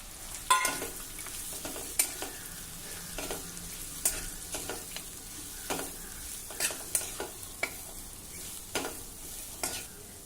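Chopped spiny gourd (kantola) stir-fried in a pan with turmeric and red chilli: a spatula scrapes and stirs in sharp, irregular strokes about once a second over a soft, steady sizzle, close and alone.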